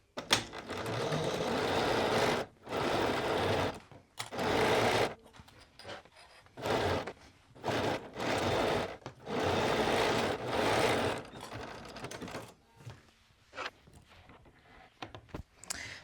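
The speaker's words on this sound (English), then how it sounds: "let's go over to the machine now, and we are going to sew that seam" A home sewing machine stitches a hoodie seam at a 3 mm stitch length, running in repeated bursts of a second or two with short pauses between them, loud and close.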